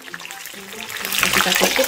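Chillies and tomatoes frying in hot oil, a hissing sizzle that swells louder toward the end while a person speaks over it.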